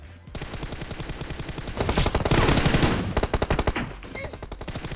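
Automatic gunfire in the video game PUBG rattles in rapid, loud bursts that swell into a dense barrage midway before easing back to quicker, lighter shots.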